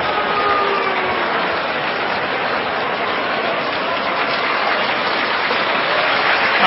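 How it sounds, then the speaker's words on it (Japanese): A sumo arena crowd at the Kyushu tournament in Fukuoka gives steady, sustained applause and cheers for a departing wrestler, a dense, even roar of clapping throughout, heard as on a radio broadcast. "拍手歓声が送られています"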